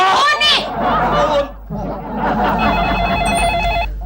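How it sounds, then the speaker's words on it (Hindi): After a burst of speech, a telephone rings with a steady electronic tone repeated for about a second, clear and close, as a call is placed. "मैं अभी आनंद को मधुपुर फोन करता हूँ और पूछता हूँ"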